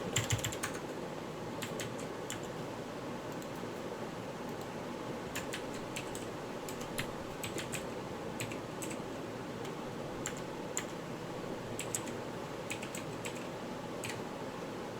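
Typing on a computer keyboard while entering text on a Facebook page, a steady run of close, light key clicks with irregular bursts of faster taps, heard alone without talk for about fifteen seconds.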